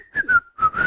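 A person whistles a short, bright melodic phrase of four notes with brief gaps between them, close and clear with no talking.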